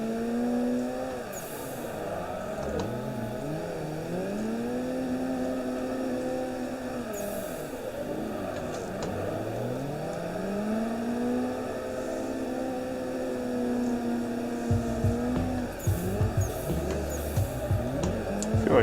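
A blue Nissan S13 drifting in a racing sim game, with engine notes sweeping up and down continuously as revs rise and fall through the slides, and a second car's engine layered in during a tandem run.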